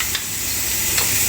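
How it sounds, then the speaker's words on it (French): Oil sizzles steadily in a pot as onion and leek fry, a loud continuous hiss with a couple of faint stirring scrapes. "dans une casserole, notre fond d'huile, et nous allons passer notre oignon"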